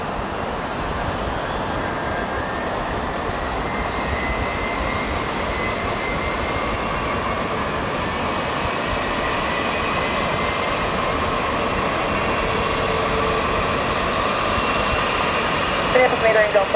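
Lufthansa Boeing 787-9 jet engines at Minneapolis–Saint Paul during pushback, a steady broadband roar with a whining tone that holds loud and constant throughout.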